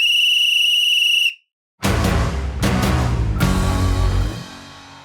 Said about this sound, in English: all that remains for you to do is blow the full-time whistle